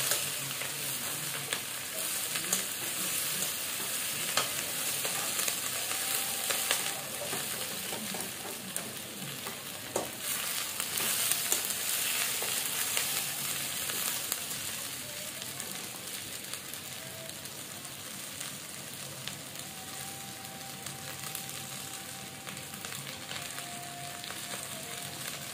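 Onions fry in a pan in a busy home kitchen, giving a steady, dense sizzle and crackle that holds close and even throughout with no talking.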